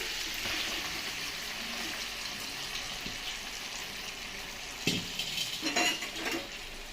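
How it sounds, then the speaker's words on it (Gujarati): Dhokla pieces tossed and stirred in a pan, a low sizzling hiss underneath with a few soft scrapes and clattering utensil knocks toward the end. "હવે સરસ મજાનું ઢોકળાને મિક્સ કરી દેશું."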